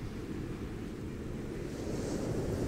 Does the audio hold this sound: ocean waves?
yes